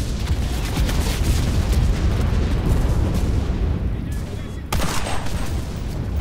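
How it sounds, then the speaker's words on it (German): Grenade explosions in the WWII shooter game Enlisted, heavy rumbling booms blending with gunfire into a sustained loud barrage, with a sharp fresh blast near the end. "Granaten rein."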